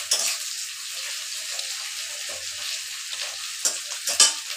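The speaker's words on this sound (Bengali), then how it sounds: "পেঁয়াজটা একটুখানি লাল লাল হতে দিব" Onions frying and being stirred in a pan for a dheki saag dish, a steady broadband sizzle close up with scraping stir strokes and a few louder clatters near the end.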